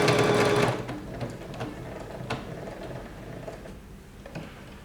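A Bernette Sew&go8 sewing machine stitches a decorative pattern in a loud rapid whir that stops after under a second, leaving faint mechanical clicks and ticks.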